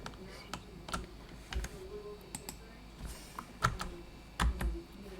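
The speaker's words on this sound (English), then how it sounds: "All you have to do is type in here." Someone types on a computer keyboard, a sparse run of close, crisp key clicks with a few heavier taps near the end, mostly alone in a quiet room.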